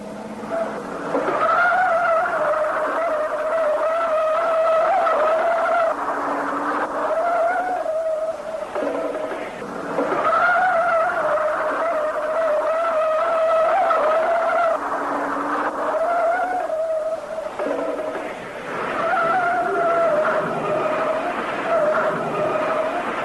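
A car with failed brakes skids and squeals on the road in a 1965 action film, long wailing tire screeches rising and falling in repeated waves over steady engine noise, loud and close.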